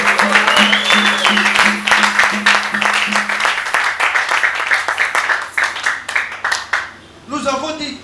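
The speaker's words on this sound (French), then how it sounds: "Maintenant tu dis croire et obéir et tu applaudis en te mettant debout au nom de Jésus." A church congregation stands and applauds, dense clapping filling the room for several seconds over a steady low organ-like tone that fades midway, with voices mixed in and the clapping thinning near the end.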